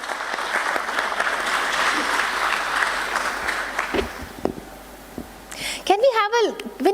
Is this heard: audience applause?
yes